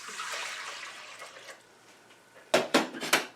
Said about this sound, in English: Now I'm starting with water. This is 3 cups of lukewarm water.